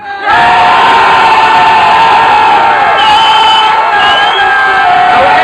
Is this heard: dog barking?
no